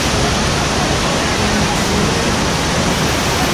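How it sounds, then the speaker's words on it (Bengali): Kanchenjunga Falls in Sikkim plunge from a great height, making a loud, continuous, dense roar of rushing water that fills the whole scene without a break. "তো এটাই কাঞ্চনজঙ্ঘা ওয়াটারফলস।"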